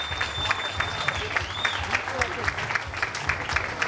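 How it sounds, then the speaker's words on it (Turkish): An audience at a dental clinic branch opening launch in Istanbul gives sustained applause with some scattered cheering, a dense crowd clapping throughout at a moderate level. "Büyük bir alkış istiyorum."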